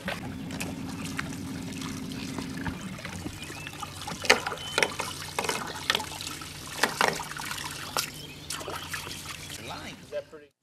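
A buzzbait fishing lure churns across the water near a floating dock, making a steady gurgling splash with scattered sharp clicks and spatters, heard at moderate distance under a low background hum.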